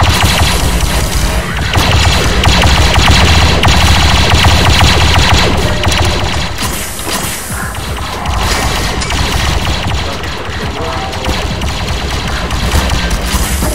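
Dense, loud gunfire from a Star Wars roleplay server in the video game Garry's Mod: sustained rapid automatic bursts mixed with booms and crashes, with no talking.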